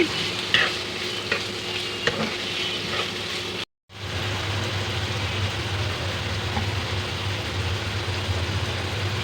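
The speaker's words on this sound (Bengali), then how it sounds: "নাড়াচাড়া করে নেব পেঁয়াজটাকে হালকা বাদামি রান্না করে নিব" Onions sizzle steadily in a hot pan while being stirred toward light brown, a continuous close frying hiss with a few light scraping clicks and one brief dropout partway through.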